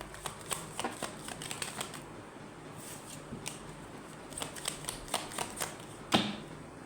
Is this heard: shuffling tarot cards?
yes